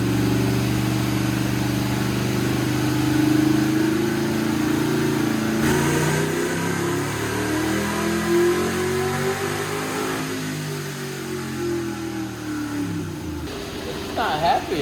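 A 1965 Corvette barn-find engine revs up and falls back in long rising and falling sweeps, then settles toward idle. It is loud and close, with people talking under it.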